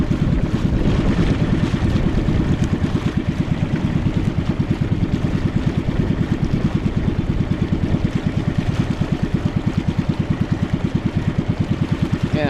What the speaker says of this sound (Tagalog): Luma na makina eh.